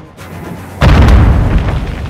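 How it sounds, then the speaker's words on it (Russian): A grenade goes off in Call of Duty: Modern Warfare 2 on PS5, a sudden loud, close boom that hits after a moment of quiet and then rumbles and fades out. "Граната!"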